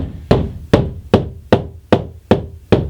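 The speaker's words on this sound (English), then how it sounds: "When I'm hitting it with the back of my hammer, more of the impact is absorbed when I hit the plaster with no stud behind it." The back of a hammer taps on a plaster wall, seven sharp evenly spaced knocks about half a second apart, each ringing briefly, heard alone and close.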